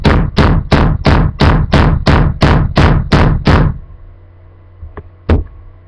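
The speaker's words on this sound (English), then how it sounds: "start nailing it down." A hammer drives nails into pieces of wood in a fast, even run of about ten loud, close blows, then stops, followed by a couple of lighter taps.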